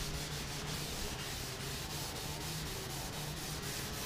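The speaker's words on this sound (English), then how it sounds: "But I am rubbing an awful lot of this off." Steady, continuous rubbing of wood stain off a wooden boat wheelhouse, a close, even scrubbing with a faint rhythmic pulse of repeated hand strokes and no pauses.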